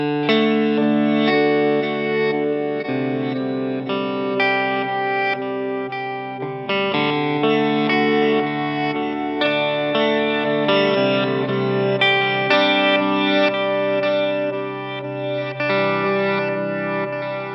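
Harley Benton D-Seed delay pedal on its reverse setting, swelling layered guitar chords with smeared, reversed echoes and chorus-like shimmer, played continuously and fairly loud with no talking.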